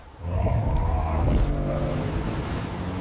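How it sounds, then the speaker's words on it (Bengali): A cartoon speedboat roars steadily with a loud motor drone throughout, a brief rising whine in the middle and no speech. "হাল্ক, তুই আমার স্পিড বোট নিয়ে যা"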